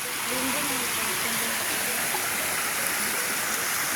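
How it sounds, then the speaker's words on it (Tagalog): Steady, full rush of a flowing stream near a waterfall at a farm resort in Calauag, Quezon, close and constant throughout, with a voice talking faintly beneath the water noise. "ayan po yung sapa na running water"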